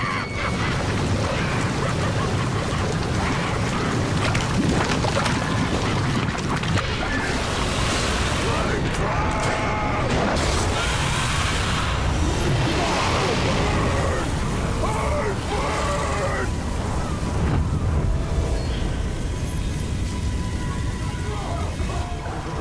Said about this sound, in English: Mounting armored cavalry allows us to ride through these flames unharmed.